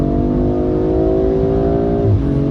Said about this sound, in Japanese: M340i を富士スピードウェイで試走した時ですね、この回転の盛り上がり